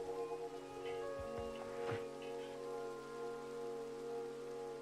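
Steady rain patters in the Minecraft video game, a constant soft hiss under sustained background music tones, with no talking.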